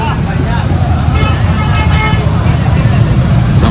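A bus moves through dense, loud roadside traffic at a village Gangamma fair in Rajampet. A horn toots amid constant engine rumble and crowd babble.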